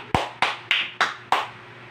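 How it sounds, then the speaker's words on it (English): A classroom group claps together in five sharp, evenly spaced beats, fairly close and with nothing else under them. "Let us clap our hands together for Ronald."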